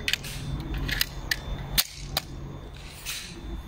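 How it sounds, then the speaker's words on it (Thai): Unloaded pistol being dry-fired, a series of sharp, close metallic clicks and snaps from the trigger and action, irregularly spaced over a quiet background. "ปืนไม่มีกระสุนลั่นไกทิ้ง"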